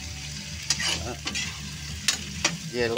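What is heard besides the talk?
shrimp frying in a pan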